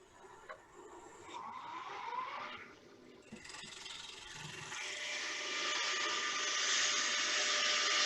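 A wood lathe spins as a gouge takes a slicing cut with its bottom flute, producing a steady, rising hiss and whir of shaving wood that grows louder and denser toward the end, with no talking.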